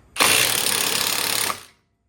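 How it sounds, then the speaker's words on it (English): An impact tool with an 18mm deep well socket spins the nylon-locking sway bar link nut on a newer Ford Bronco, one loud buzzing whir about a second and a half long that stops abruptly, close and alone. "We got an 18 millimeter deep well socket to the sway bar link. We're going to spin it."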